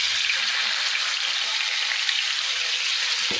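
Food fries in hot oil in a kadai, a dense, even sizzle heard up close and alone, with a short clatter at the very end.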